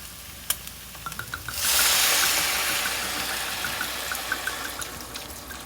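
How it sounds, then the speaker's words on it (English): Wine and bone broth poured into a stew pot in a tiny home kitchen: a steady, close rushing pour starts partway through and carries on to the end, with faint clinks scattered over it and no talk. "now we're gonna add the wine and the bone broth"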